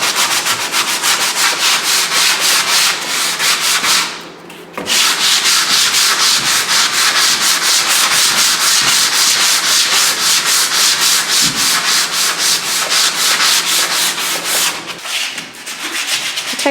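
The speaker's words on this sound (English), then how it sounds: "it's time to sand off the rough edges on this as well" Sandpaper rubbing along the edges of a wooden table, a close, loud, continuous rasping scrub in fast back-and-forth strokes, pausing briefly twice.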